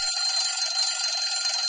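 Continuous high, bright electronic alarm-clock ringing, steady and loud from start to finish with no pauses, heard alone without any voices or other sounds.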